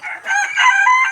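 Chickens in a coop, about twelve birds with a duck among them, give a loud close crow with clucking in one short burst.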